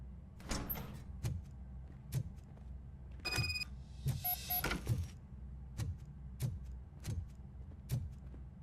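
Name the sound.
door opening in video game RoboCop: Rogue City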